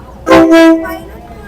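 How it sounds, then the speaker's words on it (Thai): Train horn sounding at Maeklong railway market as a train passes through, one loud, close two-part blast, briefly overlapped by a voice. "ไปแล้วครับรถไฟ"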